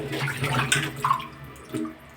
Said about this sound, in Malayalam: ഒരു രണ്ട് വെള്ളം കൂടി ഒന്ന് കഴുകിയാൽ മതി